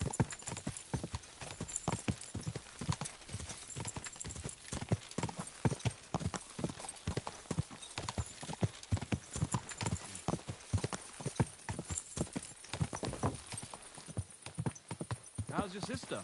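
Horse hooves clip-clopping in the video game Kingdom Come Deliverance 2, a steady rhythmic trot of close, clear hoofbeats lasting throughout, with faint voices talking beneath.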